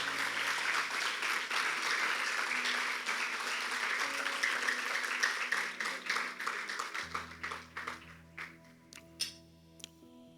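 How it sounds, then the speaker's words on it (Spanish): Applause from a church congregation honoring the Lord, a steady wash of many hands clapping that thins out toward the end into scattered claps over a low sustained tone. "Den un aplauso al Señor."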